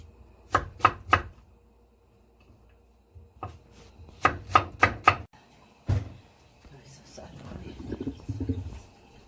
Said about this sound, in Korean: 적당한 굵기와 길이도 적당한 길이도 이렇게 썰어 주시면 되겠습니다